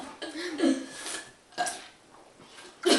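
Loud, close burps after gulping Pepsi in a burping contest, with a few separate croaking bursts spaced over a few seconds and no other voices.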